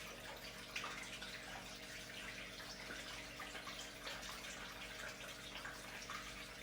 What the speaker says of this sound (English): You might be noticing that the water is moving much faster than before.